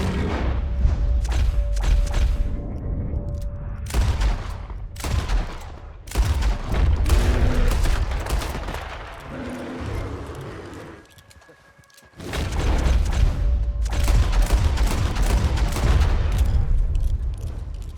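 Rapid gunfire and booming shots in Red Dead Redemption 2 during a shootout, dense volleys of cracks and thuds in loud clusters, with a quieter lull shortly before the barrage resumes.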